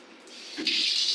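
Water turned on at a faucet in a bathroom under renovation, a soft hiss that swells into a steady close stream within a second.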